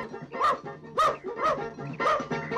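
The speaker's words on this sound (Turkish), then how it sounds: "Kurtarın beni, köpek geliyor." A dog barks repeatedly at close range, loud sharp barks in an uneven rhythm, about five in under three seconds.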